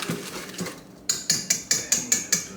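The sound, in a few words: whisking cookie dough ingredients in a bowl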